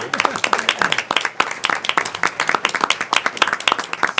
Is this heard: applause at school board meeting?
yes